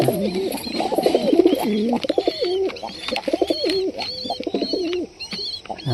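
Pigeons kept at home coo close by in repeated throaty, wavering phrases, several birds overlapping in a steady back-and-forth rhythm with a few short chirps mixed in.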